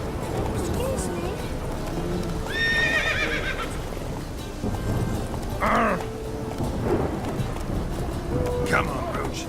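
Horse neighing and whinnying in The Witcher 3, with hoof clip-clops under steady game ambience and wind; several loud whinnies rise over the bed.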